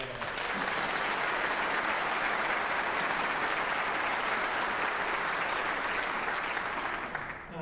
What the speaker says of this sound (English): a round of applause for all of us